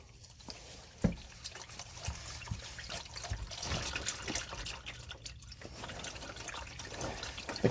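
Engine oil drains steadily from a Mazda CX-9 into a drain pan, giving a continuous liquid trickle and splatter with a few small knocks, close and moderately loud, with no talking.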